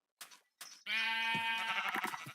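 Minecraft sheep from the FTB Unleashed modpack bleat in one long, loud, wavering cry, preceded by two short soft bursts.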